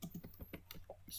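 A computer keyboard clatters with about a dozen quick, close keystrokes in an uneven typing rhythm over a little more than a second, fairly quiet and with no talk.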